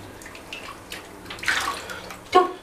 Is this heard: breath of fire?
no